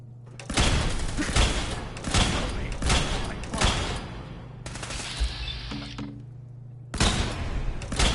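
Rapid bursts of gunfire from a Fallout 4 firefight, loud and close, arriving in several dense volleys separated by brief gaps, with a steady low hum running underneath.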